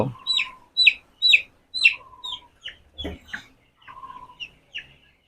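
A chicken, a young farm-raised broiler, clucks in a series of short, close, repeated calls with brief pauses between them, plus a soft thump midway.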